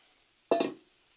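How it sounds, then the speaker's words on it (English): Cabbage dumped onto seasoned ground beef on a Blackstone griddle gives a sudden loud burst of sizzling that fades over about half a second, alone without talk. "let's add our cabbage. Dump that whole bowl in there."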